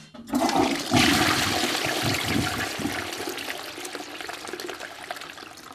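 A toilet flushes with a sudden loud rush of water that slowly tapers into a trickling refill, heard up close and on its own without any voices.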